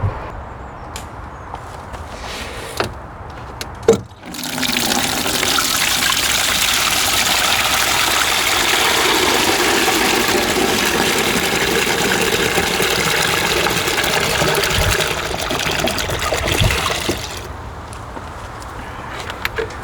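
Homemade nettle liquid plant food concentrate pours steadily from a weed drum into a container, a loud continuous gush running for about thirteen seconds before tapering to light trickles and drips.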